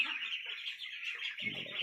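Young ducklings kept in a pen under a heat lamp give off a continuous chorus of shrill, overlapping peeps, fairly close, with a low rustle joining near the end.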